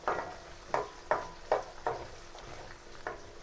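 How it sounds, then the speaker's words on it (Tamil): Small onions and green chillies frying in oil in a pan for a spicy anchovy fish curry, with a steady sizzle broken by six or seven sharp stirring scrapes at roughly half-second intervals, close and moderately loud. "வெங்காயம் பச்சை மிளகாய் நல்லா வதங்கணும்."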